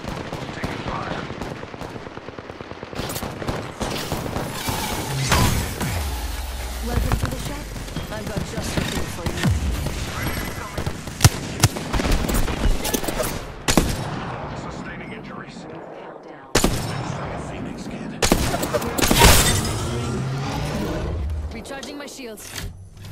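Heavy gunfire in a video game firefight with the player taking fire: dense, rapid bursts of shots and sharp impacts keep coming, with voices mixed in throughout.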